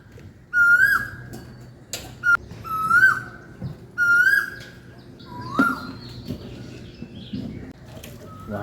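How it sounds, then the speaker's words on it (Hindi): Two koels calling from a tree near a temple: three loud, rising whistled calls at a steady spacing, then a softer call over faint background hum and scattered distant sounds. "वहाँ पेड़ पर 2 कोयल बैठे हुए हैं"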